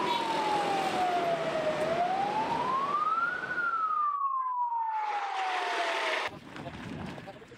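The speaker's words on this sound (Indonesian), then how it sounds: "Oh, ambulan." An ambulance siren wails loud and close in a slow, continuous rising and falling tone at a funeral gathering, with the surrounding crowd's noise cutting in and out and softer voices toward the end.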